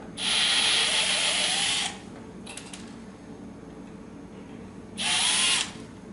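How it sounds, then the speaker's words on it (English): Power drill spinning in reverse to clear rivet debris while removing drive bays from a computer case: a loud, whining burst lasting almost two seconds, a pause with faint clicks, then a second shorter burst. "Put your drill bit or your drill in reverse."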